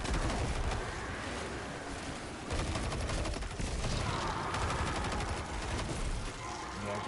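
Rapid bursts of mini rockets firing from a Gjallarhorn-style launcher in Destiny 2, a dense, continuous barrage of loud explosive cracks and booms with a brief lull midway.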